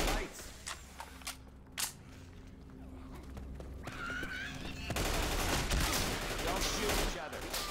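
Gunfire rattles at zombies in the Left 4 Dead 2 video game, scattered sharp shots early, then denser, louder bursts of automatic fire in the second half, with voices speaking over the chaos.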